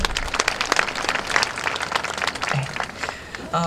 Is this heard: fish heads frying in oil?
no